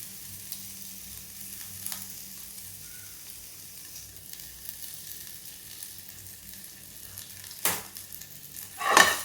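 Grated ingredients fry in hot oil for a dhaba-style dal tadka, a low, steady sizzle with occasional louder stirring scrapes, the clearest near the end.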